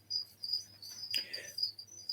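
Feeder crickets kept in tubs with egg crates, chirping in steady high-pitched trills that repeat through the clip, with a brief soft rustle in the middle and a low background hum.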